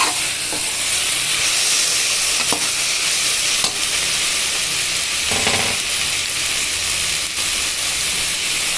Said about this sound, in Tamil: இது நல்லா கிண்டி விட்டுட்டு நம்ம உப்பு போட்டு நல்லா வதக்க போகிறோம்.